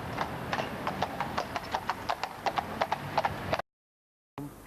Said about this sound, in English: These are 10 and 11-year-old Polish horses, and we've had them from youngsters, bred them for the job, and they're very good in London traffic.